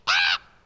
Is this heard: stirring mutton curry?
no